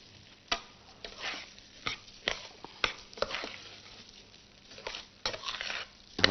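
Plain white rice is stirred with a cube of butter and a little oil in a pot, giving soft scraping strokes and light clinks at an uneven pace, fairly quiet and close.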